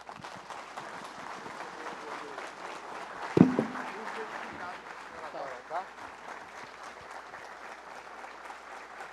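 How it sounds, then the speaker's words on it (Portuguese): Sustained applause from an audience standing for a science and technology minister at a formal event, steady dense clapping throughout with one sharp louder burst near the middle and faint voices underneath. "os companheiros aplaudem de pé"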